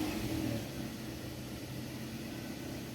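A Toyota Corolla GLI car engine idling steadily at close range, a low continuous hum with a brief brighter rev-like swell at the start, no talking.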